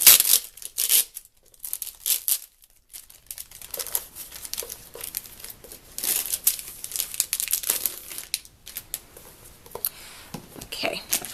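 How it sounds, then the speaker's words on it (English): Crinkling plastic wrap is pulled and torn off a new Erin Condren planner in close, loud bursts separated by short pauses, while a person talks over parts of it. "pulled off the plastic that was around it"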